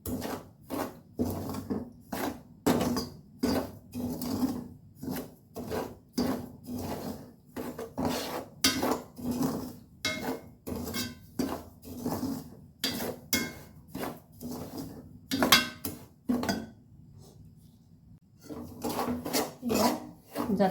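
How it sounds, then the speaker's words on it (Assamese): Semolina is slowly roasted in a pan and stirred with a spoon, making a quiet, close, rhythmic scraping that repeats in regular strokes with brief pauses. "তাৰ কাৰণে মই লৈছোঁ এবাটি চুজিখিনি মই কম লাহে লাহে মানে ভাজি থাকিম"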